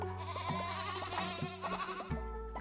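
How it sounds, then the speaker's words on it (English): A goat-like bleat, a wavering nasal cry with pulsing vibrato, repeats in short rising-and-falling phrases, fairly quiet and clear with no talking over it. "So that's more of a goat noise than a sheep noise."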